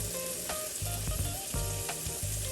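Shrimp fry and sizzle loudly in a pan, a dense constant hiss punctuated by soft taps and clinks as the pieces are flipped over.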